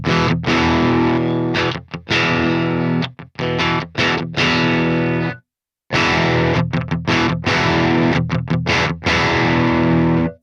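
Electric guitar played through the MLC Sub Zero metal amp simulator, heavily distorted chugging riffs with hard, punchy attack and abrupt stops, loud and close, with one brief full pause in the middle.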